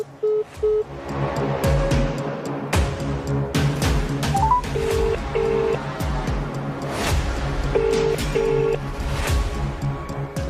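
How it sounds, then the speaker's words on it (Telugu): A telephone gives short repeated electronic tones and beeps during a call, in pairs and brief bursts over clattering background noise. "భాస్కర్ ఫోన్ ఎత్తిండు, కానీ సౌండ్ లేకుండా పెట్టేసి కట్ చేసేసి"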